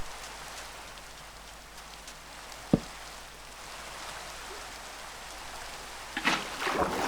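Steady rain in the video game Minecraft, a soft even hiss filling the whole stretch, with one sharp thump partway through and a burst of brighter splashy noise near the end; no one speaks.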